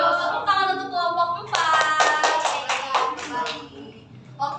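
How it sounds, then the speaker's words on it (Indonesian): A school class applauds a student group after a team-teaching lesson, a short burst of brisk clapping from several hands that fades after a couple of seconds, bracketed by a teacher's voice before and murmuring after. "Tepuk tangan untuk kelompok"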